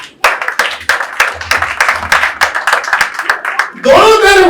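An audience claps during a gospel sermon, a dense run of loud, sharp hand claps lasting several seconds, followed by a voice speaking at the end.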